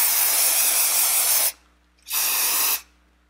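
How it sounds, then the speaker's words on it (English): Aerosol protectant sprayed onto Louis Vuitton vachetta leather on a Pochette Metis, two close hissing bursts, a longer one of about a second and a half, then a short gap and a second shorter burst. "I am just gonna go ahead and spray it really quickly."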